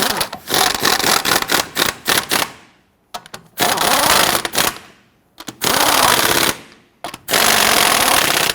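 A power tool, likely an impact wrench, snugs down the wheel lug nuts on a 2005-2021 Nissan Frontier in four loud, rattling bursts close by, with brief pauses between them and no talking.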